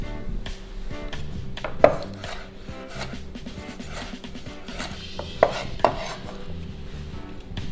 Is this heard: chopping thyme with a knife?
yes